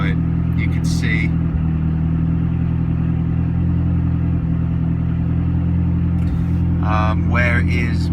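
A cold 1999 Mitsubishi Eclipse GSX AWD engine running lean, idling with a steady low rumble and a faint ticking clatter, loud and close, with brief bits of talk over it.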